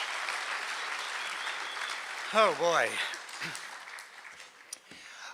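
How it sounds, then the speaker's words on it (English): Sustained applause rolls through a hall at a water ski and wake sports hall of fame induction ceremony, with a voice briefly exclaiming over the clapping midway before it carries on. "I say we got to give her another big round of applause"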